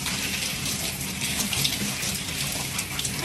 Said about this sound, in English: This is about to be the fastest shower of my life.